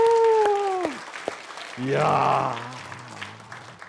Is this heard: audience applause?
yes